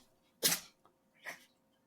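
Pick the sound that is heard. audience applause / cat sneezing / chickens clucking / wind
cat sneezing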